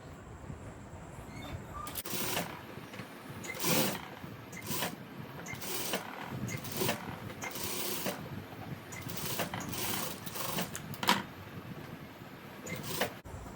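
A sewing machine stitches a boat neck blouse in a tailoring workshop, giving short bursts of rapid mechanical clatter separated by pauses, close and moderately loud, with no talk.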